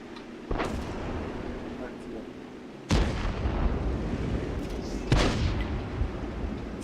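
Artillery fire in World of Tanks, three heavy booming blasts spaced a couple of seconds apart, each with a sharp crack and rolling tail, over a continuous low battle rumble.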